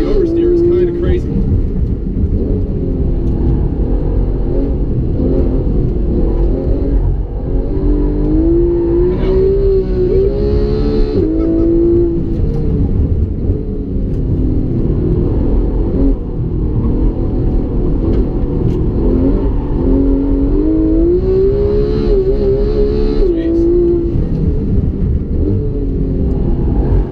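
A Porsche 911 GT3 engine loads and revs continuously as the car is driven hard around a figure-eight course, its loud rumble rising and falling with throttle, heard close up beneath steady talking.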